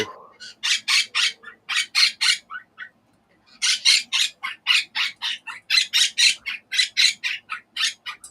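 A pet bluebird sings a long run of rapid, bright chirping bursts, close and fairly loud, with a short pause near the middle and no talk.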